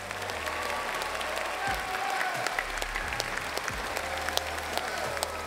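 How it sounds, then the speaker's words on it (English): A crowd at the Pokémon Worlds 2022 Trading Card Game seniors grand finals applauds a player walking onto the stage, a steady bed of clapping with low rumbles of the hall underneath. "Welcome to the stage. Let's give him a big round of applause."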